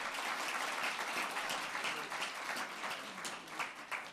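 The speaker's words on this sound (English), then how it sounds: "Can we please give them another massive round of applause?" Conference audience applauding, a dense, continuous wash of many hands clapping that holds steady for a few seconds, heard from within the hall at moderate level without speech.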